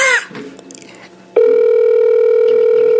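A telephone call ringing out: after a brief burst of other sound, a steady loud electronic ring tone holds continuously, close and clear, with no talk over it.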